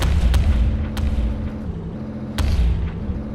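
A burning tank explodes in a Tanks vs Tanks video game match, heavy low booms arriving in several loud bursts over a constant rumbling battle din, with one sharp blast near the start and another later.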